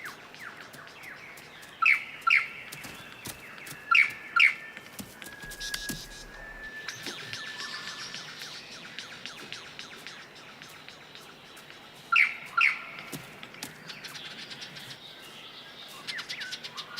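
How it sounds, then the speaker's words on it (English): Wild birds call in the Australian bush during a summer heat wave, sharp paired chirps repeating at intervals over a faint, continuous chorus of distant birdsong and insects. "Most of our bird counts are actually done not by seeing birds, but by listening to their calls."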